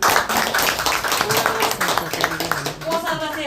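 A crowd at a party convention claps for the newly named committee secretary, dense clapping heard under a loud announcer's voice throughout.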